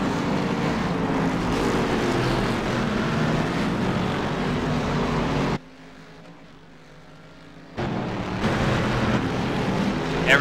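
Corvette race cars racing at Sonoma Raceway make a steady, loud engine roar that drops away abruptly for a couple of seconds, then returns at full strength as cars pass.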